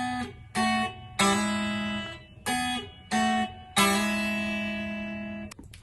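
An acoustic guitar plays a short lick in sixths with a hammer-on from an open string. It comes as a series of clean, ringing plucked double-stops with clear pauses between them.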